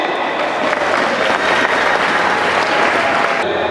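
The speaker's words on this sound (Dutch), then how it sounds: "Een fantastisch applaus voor Jan Maarten Heideman." Loud, dense applause from a theater audience for a contestant on stage at an evening show, a steady wash of many hands clapping at once without a break.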